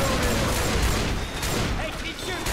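Left 4 Dead 2 gunfire, with continuous loud shots and rapid bursts packed over a steady din, with voices mixed in beneath the shooting.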